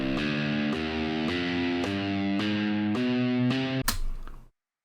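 Heavy distorted electric guitar plays a riff with its leading note raised a semitone, a series of chugging palm-muted chords in a steady rhythm, loud and close, ending in a short noisy strum.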